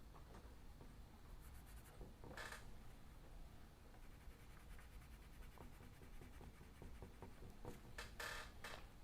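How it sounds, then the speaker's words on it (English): Pencil scratching across paper in hatching and cross-hatching strokes, a steady close texture of short repeated marks with a few brighter, harder strokes standing out. "Sometimes I'm cross-hatching, and sometimes I'm just hatching, using hatch marks."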